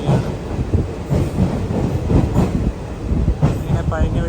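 A passenger train at Dindigul Junction station gives a continuous loud rumble and rattle of rail cars, with a brief squeal near the end and faint voices in the background.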